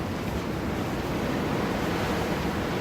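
Strong wind roars at Hanging Rock campsite in the Blue Mountains, a dense, unbroken rush of noise buffeting the microphone, loud and steady with no voices.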